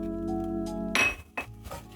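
Chopped onion hits hot cooking oil in a pot on the stove for a beef short rib dish, a sudden sizzle burst after a low hum, followed by a few metallic clinks of stirring.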